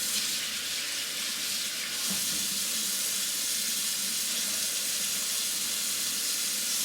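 Tap water runs in a steady, full rush into a kitchen sink as broccoli is wetted, a close and continuous splashing stream with no pauses.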